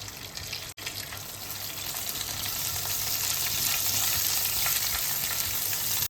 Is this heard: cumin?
yes